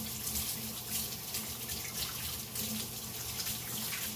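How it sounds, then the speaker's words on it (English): Hands are washed under a running kitchen tap while making cinnamon buns: a steady, close rush of water splashing into the sink, continuous for the whole stretch with no talking. "let me throw this out, give my hands a quick wash"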